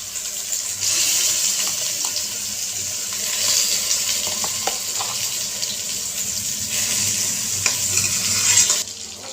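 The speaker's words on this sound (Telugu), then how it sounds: "తర్వాత ఈ దొండకాయ పచ్చడిని వేసుకుందాము." Ivy gourd chutney is stirred into hot oil with mustard seeds and cumin, making a loud, continuous frying hiss broken by short scraping strokes of a spoon against the pan.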